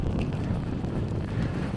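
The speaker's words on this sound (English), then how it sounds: "I am actually fighting the wind here, and it is getting all over my face." Gusty wind buffets the microphone in a dense low rumble during a walk through a New York City snowstorm, steady and close with no pauses.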